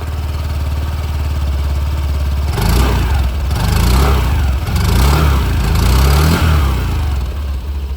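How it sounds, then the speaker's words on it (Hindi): A Honda Activa 125 H Smart scooter engine idles steadily, then its exhaust note rises through a few short revs before settling back to a low rumble; no talking. "अब एग्जॉस्ट साउंड जो वो मैं आप लोग को सुना देता हूँ"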